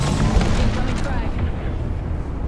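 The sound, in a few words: frag grenade explosion in a video game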